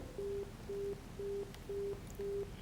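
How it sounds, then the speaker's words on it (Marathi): Telephone busy tone after a call cuts off during a call-in programme: five evenly spaced steady beeps, about half a second each with equal gaps, clear over a faint low hum. "माझ्या मते फोन डिस्कनेक्ट झालेला आहे"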